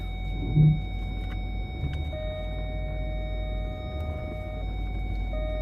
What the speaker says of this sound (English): So let me reverse a little bit.